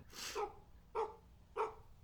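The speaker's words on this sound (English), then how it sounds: "Nope, that's a dog. It's barking." A dog in the video game Forgotten Fields barks three times, one longer bark followed by two short evenly spaced ones, moderately loud over a quiet background.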